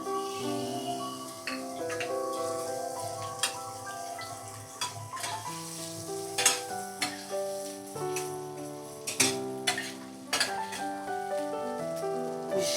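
Chopped onion hits a hot pan and fries with a soft sizzle, with scattered clicks of stirring under steady background music.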